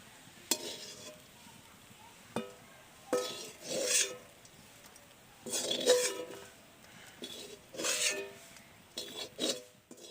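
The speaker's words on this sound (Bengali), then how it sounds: "ব্রেড ক্রাম্ব আর চিনি দিয়ে খুব ভালোভাবে আমি নেড়ে চেড়ে নিচ্ছি" A spoon stirs breadcrumbs and sugar in a pan while a vegetable chop filling is being made, giving quiet, intermittent scraping strokes in irregular bursts with short pauses between them and no talking.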